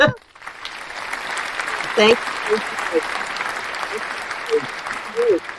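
Audience applause at the close of a talk, a steady wash of clapping after a brief spoken thanks, with short vocal bits poking through near the end.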